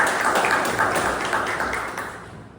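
A Toastmasters club meeting audience gives a round of applause in a room, scattered hand claps forming a steady patter that gradually fades toward the end.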